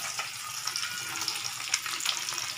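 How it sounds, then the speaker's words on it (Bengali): Rohu fish pieces frying gently in oil in a home kitchen pan, a steady soft sizzle with small crackles and pops throughout, no voices. "আমি মাছটা আস্তে করে উল্টে দিচ্ছি, হালকা ভাজবো"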